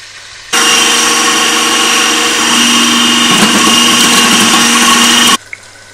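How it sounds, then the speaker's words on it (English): A kitchen blender whirs steadily for about five seconds, blending onions, spring onions, garlic and tomatoes for a fish stew, loud and close, with a brief shift in pitch partway through before it cuts off. "I'm just going to blend the onions, spring onions, garlic and tomatoes"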